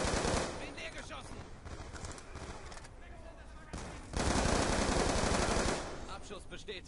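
Rapid automatic gunfire in Call of Duty Black Ops 2, dense bursts of shots with a louder stretch near the end, mixed with game sound effects.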